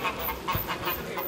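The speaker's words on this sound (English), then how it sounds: "a flock of noisy geese with an attitude" A flock of noisy geese at the Barcelona cathedral gives a few short, nasal honks and squawks in quick succession, moderately close, over a faint background hum.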